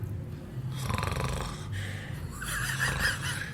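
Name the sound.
voice imitating snoring of cinema goers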